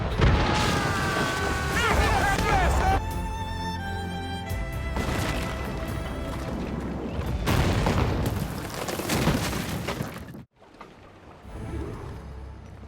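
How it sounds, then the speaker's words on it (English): Ship cannons firing in a video game naval battle, repeated heavy booms and blasts over music and shouted commands, loud and close, with a brief silent gap near the end. "Fire! Cannon ready!"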